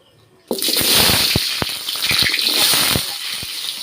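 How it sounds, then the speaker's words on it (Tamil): Hot water poured over cauliflower pieces in a kitchen while cooking a cauliflower gravy, a steady close gushing splash starting abruptly and running several seconds with small knocks and plops throughout. "பாருங்க வெந்நீர் நல்லா ஊற்றிட்டேன்"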